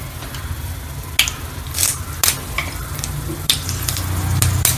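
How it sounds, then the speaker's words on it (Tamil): Mustard seeds and spices tempering in a little oil in a small pan for chutney, a loud, close hiss broken by sharp pops and crackles at uneven intervals, with no voices. "இப்போது ஒரு சின்ன வானல் வச்சு நம்ம தாளித்து கொட்டுறோம்"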